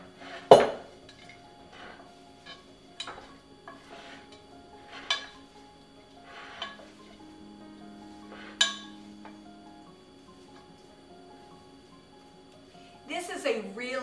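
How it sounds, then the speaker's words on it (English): Tossing a salad with roasted sweet potatoes gives a series of light clinks and scrapes of utensils against a bowl, spaced out with brief quiet gaps and a sharper knock near the end, while a voice talks faintly underneath. "And then give this salad a quick stir."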